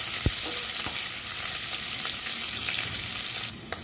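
Onion stir-fried with browning garlic in a pan, a dense steady sizzle, close and fairly loud, with a few faint spatula knocks, and no speech.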